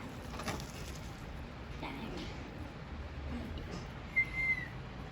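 A short, high whistle tone sounds near the end, rising briefly above steady kitchen background noise.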